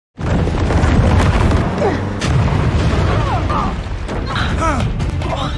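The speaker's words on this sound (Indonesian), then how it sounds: "lolos dari ledakan terowongan barusan" A loud, sustained rumbling blast of an explosion in a tunnel fills the whole clip, broad and booming with a reverberant roar and faint whistling tones above it.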